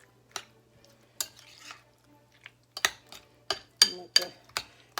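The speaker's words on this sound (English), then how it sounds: "Now, I'm going to mix this all together." A spoon stirs shrimp salad with mayo and yogurt in a bowl, giving a series of sharp scraping clinks in an irregular rhythm, close and fairly quiet, with no talking.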